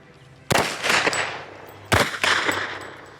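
A firearm fires on full automatic at a shooting range: two short, loud, close bursts about a second and a half apart, each ringing out before fading.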